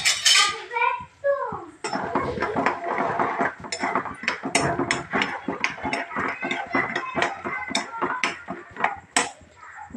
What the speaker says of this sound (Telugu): ఫస్ట్ వేరుశనగపప్పు వేస్తున్నాను.